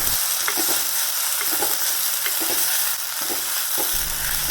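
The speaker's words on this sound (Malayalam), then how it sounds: "മുരിങ്ങയില എല്ലാം ഇട്ട് കഴിഞ്ഞ് ഇനി നമുക്ക് ഇതിനെ ഒന്ന് നന്നായിട്ടൊന്ന് വഴറ്റി കൊടുക്കാം." Drumstick leaves for a Kerala-style curry sizzle steadily in a hot pan, with soft intermittent scrapes and stirring knocks over a continuous frying hiss; no voices.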